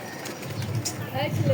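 Pigeons coo softly as a flock lands, with brief wing flaps and low murmuring calls heard close by under a voice speaking.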